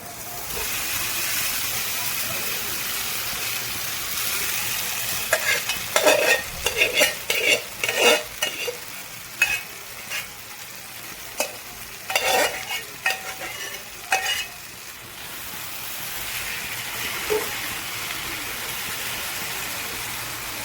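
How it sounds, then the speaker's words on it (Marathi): Street-style noodles tossed and stirred in a hot pan on a gas stove, steady close sizzling with clattering scrapes and stirring bursts through the middle, no talking. "गॅस कमी करून त्याला चांगलं मिक्स करून घेऊ."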